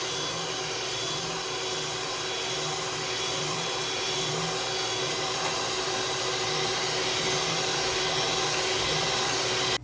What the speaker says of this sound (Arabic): الا لينا هاد الخليط بيض كنبدا نزيد في الزيت بحال الخيط وانا كنطرب